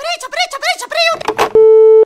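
Animated speech gives way to a steady electronic beep as a phone call is cut off, the flat tone holding loud and clean for about half a second before ending abruptly.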